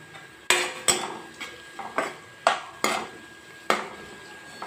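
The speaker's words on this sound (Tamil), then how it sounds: "வெங்காயம் நல்லா வதக்கி எடுக்கலாம். கூட கொஞ்சம் சோம்பு." Onions and fennel seeds being sautéed in a pan, a spoon knocking and scraping against the metal in a steady series of sharp, close clanks with faint sizzling underneath.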